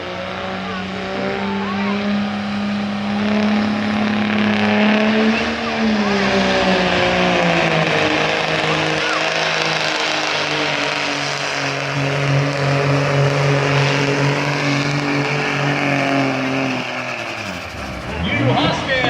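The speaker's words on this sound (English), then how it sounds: "You hear the backfire?" A 1997 Dodge Cummins pickup pulling a sled at a truck and tractor pull in Garrett County, Maryland roars in a loud sustained drone that swells and dips, with crowd and announcer noise faintly underneath.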